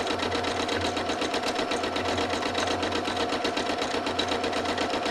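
A sewing machine runs in a steady, fast rhythmic stitching for free-motion quilting of pebble circles on a sampler block, close and continuous with no pauses.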